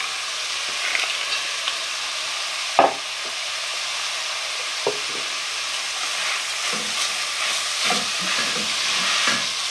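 Peas tumble into a pan of frying vegetables for a veggie spaghetti sauce, setting off a steady sizzle with a few sharp scrapes and clacks as they are stirred in.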